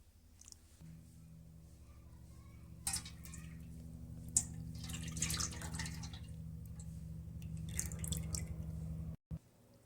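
Water mixed with wheat starch poured from one pot into another, a rising liquid gush and splash that thickens toward the end before stopping abruptly, close by with no talk.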